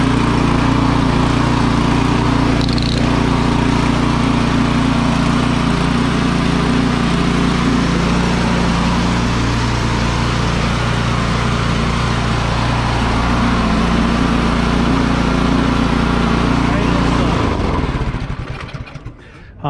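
A Craftsman snow blower's small engine runs steadily and loudly close by, a constant droning putter with no choke applied, holding for most of the time before cutting out near the end.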